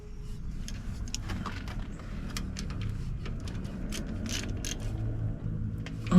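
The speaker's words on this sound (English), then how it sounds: "Then we have those 12mm bolts for the pins. Let's go ahead and tighten those up." A ratchet tightens the 12mm caliper pin bolts on the rear brakes of a 2015-2022 Chevy Colorado, making close, quick runs of ticking clicks and light metallic creaks over a low background hum.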